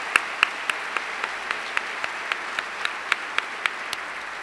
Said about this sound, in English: let's give them a big round of applause for making it here